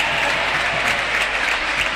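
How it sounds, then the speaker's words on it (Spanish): Steady, dense applause comes from the Club Presidente Derqui team bench during a sports match. Many hands clap continuously and fairly close throughout, with no pause or spoken words over it. "Los aplausos son del banco de Derqui."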